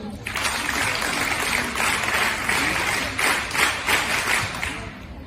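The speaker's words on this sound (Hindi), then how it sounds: "एक बार आपके लिए जोरदार तालियां" A crowd applauds college students at an International Women's Day event, dense clapping sustained evenly and loud throughout.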